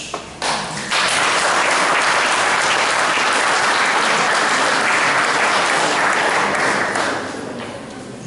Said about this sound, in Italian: E un applauso a Pietro Sasso.